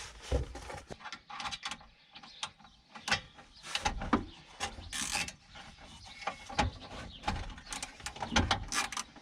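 A ratchet clicks in short bursts, refitting the small bolt that holds a sensor on a Renault Trafic van engine, with mechanical clinks and handling noises close by.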